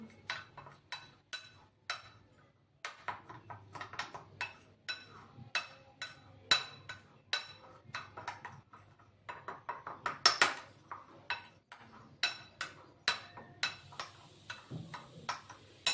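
A spoon clinks against a bowl as salt and spices are mixed for mango pickle, with repeated sharp metallic taps in an uneven rhythm, close and fairly crisp.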